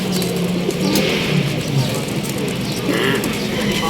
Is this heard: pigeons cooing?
yes